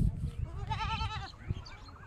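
Goats bleat while crossing a river in Assam, one clear wavering bleat rising mid-clip over low rumbling background noise, close to the listener.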